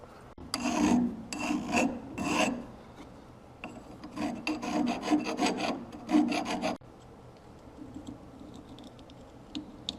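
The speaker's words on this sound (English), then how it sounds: "I'm going to spin it around and just deburr this end of it where the hole came through" A hand tool deburrs the drilled end of a metal grinding wheel arbor part in short bursts of scraping rasps, close and fairly quiet, then stops leaving faint room noise.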